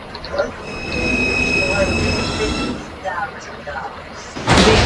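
An MTA R142 subway train on the Bronx-bound 5 line rumbles loudly along the track, with thin, steady wheel squeal tones above the roar and a sharp louder burst at the very end.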